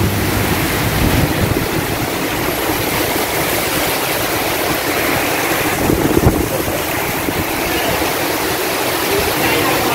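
Heavy wind and rain batter Hat Yai in Thailand in the dark, a loud, dense, continuous roar of rain and gusting wind buffeting the microphone throughout, with no letup.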